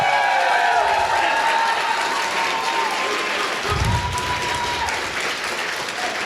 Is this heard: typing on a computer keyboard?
no